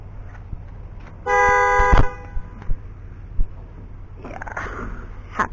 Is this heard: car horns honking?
yes